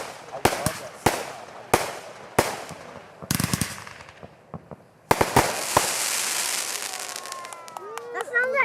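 Fireworks and firecrackers going off at a Fourth of July party, sharp cracks spaced a second or so apart, then a dense burst of crackling and popping with whistling shells rising near the end, voices faintly audible in between.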